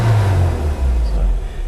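A Honda Odyssey RA1 engine, a JDM H23A VTEC with manual transmission, idles with a steady low rumble, close by, its pitch shifting slightly as it runs.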